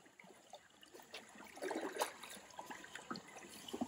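Soft splashing and sloshing of water in a village swimming pool, scattered and faint, as a man throws water around, with no speech.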